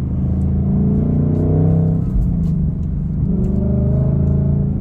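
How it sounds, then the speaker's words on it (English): A Dark Horse with a manual gearbox downshifts in traffic, its engine rumbling loudly and steadily up close, the pitch dropping and then climbing again with no voices. "Here comes the downshift with the, so you hear that?"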